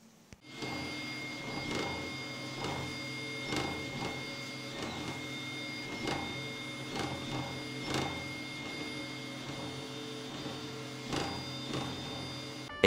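A Prusa 3D printer prints face mask parts, its stepper motors whirring and buzzing in a steady rhythm of repeated pulses over a constant fan hum, close and moderately loud.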